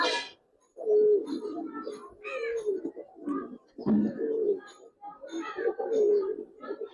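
Giribaz pigeons coo in soft, repeated bursts throughout, mixed with handling noise and someone talking close by.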